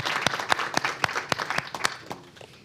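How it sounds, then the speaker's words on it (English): A small audience applauds panelists at the end of a panel discussion, with distinct individual claps in an uneven, sparse rhythm that thins out toward the end. "Let's give our panelists a round of applause"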